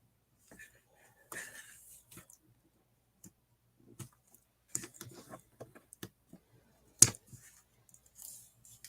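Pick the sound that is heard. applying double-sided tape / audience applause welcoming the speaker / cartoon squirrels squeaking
applying double-sided tape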